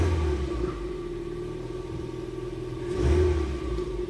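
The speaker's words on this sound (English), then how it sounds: "This seems to rev cleanly enough." A used car bought at auction revs from a steady idle, a low engine rumble rising briefly in a short rev near the end before settling, heard up close without talking.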